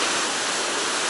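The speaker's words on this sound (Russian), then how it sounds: "Где вы увидите такую волну?" Sea waves at Zelenogradsk beach make a dense, steady roar of surf, loud and continuous with no pauses and no voices.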